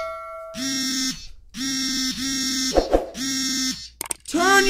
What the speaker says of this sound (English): Turn your alarm off!